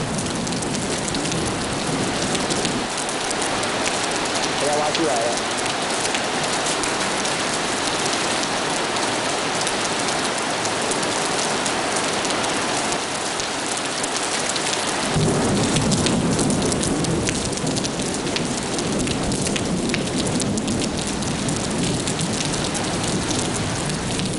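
Heavy rain pours down in a dense, steady hiss while thunder rumbles low beneath it, swelling louder partway through.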